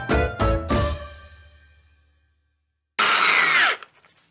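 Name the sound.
80 grit nylon abrasive wheel spinning on power tool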